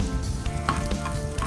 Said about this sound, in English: Then you heat up some oil and start frying the garlic first.